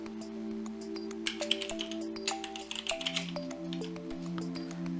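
Credit card details typed on a computer keyboard, light scattered keystroke taps over steady background music tones, fairly quiet with no speech.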